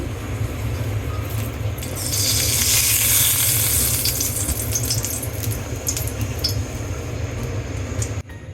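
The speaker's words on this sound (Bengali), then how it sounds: "আমার চুলায় প্যান বসিয়ে দিয়ে দিব তেল।" Oil heats in a pan on a stove before river pabda fish is cooked with mustard. A loud, bright sizzle swells after two seconds and crackles steadily, with light clinks of a utensil.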